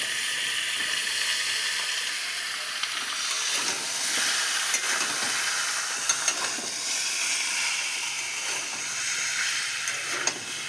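Drained meat hits a hot pan with lightly browned potatoes, giving a loud, continuous sizzle and steamy hiss that holds steady throughout, broken by a few small pops and crackles.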